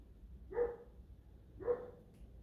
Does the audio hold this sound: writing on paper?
no